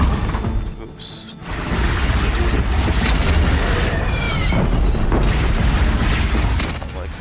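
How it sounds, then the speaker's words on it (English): Cannon fire in Horizon Zero Dawn, heavy booms and rumbling blasts over a dense, loud battle bed with a short lull near the start, voices faintly mixed in. "I like the way these cannons shoot"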